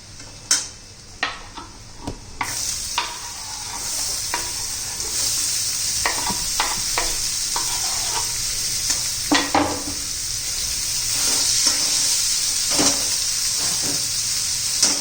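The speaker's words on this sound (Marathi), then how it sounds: "चांगला सप्ता आंबूस होईपर्यंत आपल्याला परतून घ्यायचा आहे कांदा" Onion frying in oil and butter in a pan for masala pav, a steady close hissing sizzle with occasional spoon scrapes and taps against the pan.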